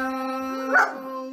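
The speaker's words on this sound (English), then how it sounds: "Okay, it's the dog." A dog gives a single short bark over a steady, held musical tone at a home birthday sing-along; the bark is close and brief, and the tone carries on after it.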